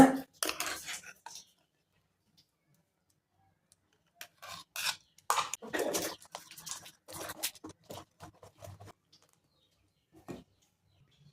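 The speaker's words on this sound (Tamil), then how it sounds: "இந்த முந்திரி பேஸ்ட்டை இதில் கலந்துக்கலாங்க" Scraping and rasping of a utensil against a metal pot while stirring cashew paste into milk for payasam, in short bursts with pauses between, close by, no talking.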